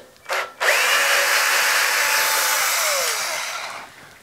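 Cordless drill whirring steadily for several seconds, driving screws into a Swardman Electra reel mower while its bottom blade is being changed; a short burst comes first, then one long continuous run that fades out.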